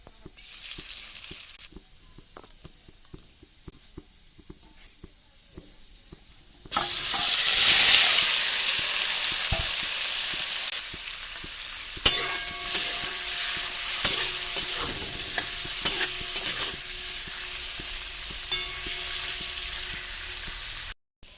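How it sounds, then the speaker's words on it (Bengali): Paneer cubes fry with salt and turmeric. A quieter start gives way to a loud, close burst of hissing sizzle that then settles into steady frying with occasional sharp clinks of stirring. "এখন নুন হলুদ দিয়ে পনিরটাকে আগে ভেজে নেব"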